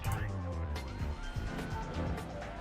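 Engines roar and tires squeal in a busy Need for Speed: Most Wanted race with police cars, overlapping revving tones and a speaking voice beneath.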